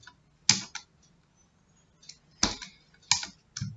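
Typing Python code on a computer keyboard, short bursts of close, sharp key clicks separated by quiet pauses, a few rapid strokes in each cluster.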